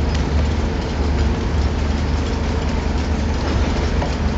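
A train engine in Uncharted: The Lost Legacy rumbles with a steady, loud, heavy low roar and constant rattling rail noise throughout.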